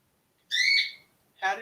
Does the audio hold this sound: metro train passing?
no